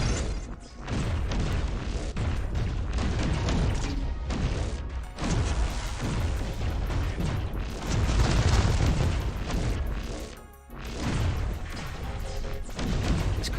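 Heavy booming cannon and turret fire in the mobile strategy game Transformers Earth Wars, a dense barrage of overlapping explosive thuds and crashes with brief dips between waves.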